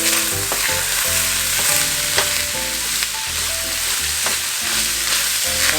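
Onions browning in a pan give a steady, dense sizzle that stays close and even throughout, with scattered spatters and light stirring and no voices.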